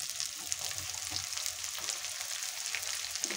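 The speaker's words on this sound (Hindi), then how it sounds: "अब इसमें हम प्याज जो बारीक काटे थे ये डाल देंगे।" Finely chopped onions frying in a pan while cooking Gujarati-style baingan bharta, giving a soft, steady sizzle with small crackling pops throughout, fairly quiet and close, with no talk.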